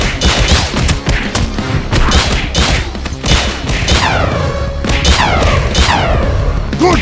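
Team Fortress 2 gunfire sound effects, loud repeated shots and booms in quick succession, some with ringing whistling tails, played over a busy mix with shouting voices.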